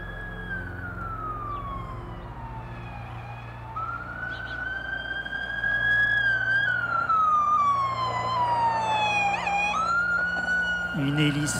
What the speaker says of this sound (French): Les sirènes sonnent.